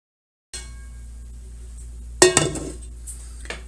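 A cooking pot readied for potatoes gives a sharp metallic clank followed by a few lighter clinks and a final tap, close by against a quiet low hum.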